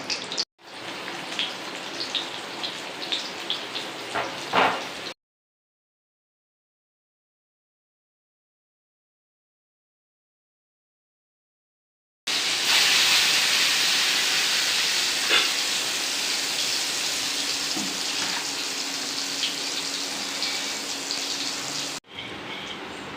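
Plantain pieces frying in hot oil for a Tamil-style plantain gravy give off a loud, steady crackling hiss in two long stretches, broken by a silent gap.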